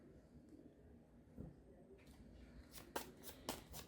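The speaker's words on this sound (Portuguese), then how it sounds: "Deixa eu só embaralhar aqui as cartas" Tarot cards being shuffled by hand: soft riffling and tapping, quiet and close, building to a few sharper card riffles toward the end.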